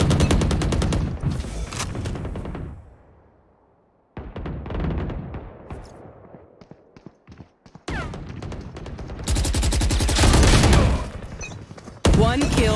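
Vandal rifle fire in a first-person shooter video game comes in several loud bursts of rapid shots, separated by quieter stretches of game ambience and footsteps.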